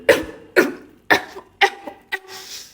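A woman coughs repeatedly after trying a cheap street snack, six harsh close-up coughs spaced about half a second apart, fading into a breathy rasp.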